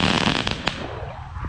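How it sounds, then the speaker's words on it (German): A crackling New Year's Eve firework crackles loudly for about a second, a dense burst of sharp pops and sizzles that quickly fades away. "Weil das Knister ist richtig laut, finde ich."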